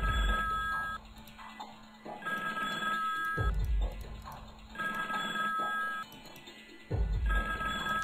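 An old-style telephone bell rings inside the Paris Hilton Halloween Fright Night scary video game, sounding in three long repeated bursts separated by short gaps, loud and close, with game ambience running underneath.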